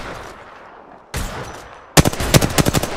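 Gunfire in a ranked online shooter game: a single sharp shot, then a rapid burst of automatic fire, loud and close, with no speech over it.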